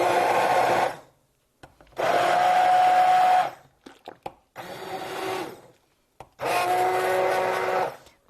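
Immersion blender chopping onions for pumpkin soup, four loud whirring bursts of about a second each with short pauses between, close up and with no talking.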